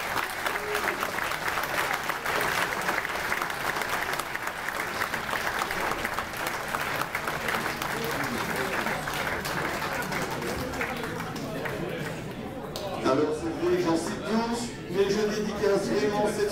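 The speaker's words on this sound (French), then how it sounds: "j'aimerais qu'on les applaudisse fortement" Audience applause at the inauguration of a new sports hall, dense steady clapping filling the room for about twelve seconds before thinning out as a voice starts over the last few claps.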